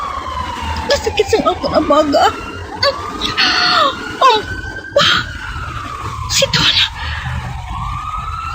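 An ambulance siren wails in rising and falling sweeps beneath anxious, strained voices talking and crying out in a radio drama, staying loud and fairly close throughout.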